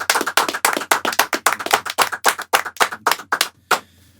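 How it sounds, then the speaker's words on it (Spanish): A small group claps in a quick, rhythmic run of about sixteen sharp, distinct claps to welcome podcast guests. The claps are close and loud, then stop abruptly just before the end. "aplauso colombiano."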